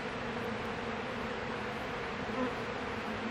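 A dense, steady buzzing of many honey bees in a hive fills the clip, close and continuous, with no voices.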